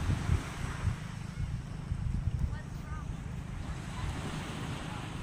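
Sea waves roll onto the shore at Nasugbu in a continuous low rush, with wind buffeting the microphone and faint voices in the background.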